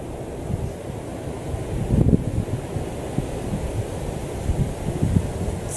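Gusty wind blowing outdoors, buffeting the microphone with a rough low rumble that swells and fades in uneven gusts, no voices present.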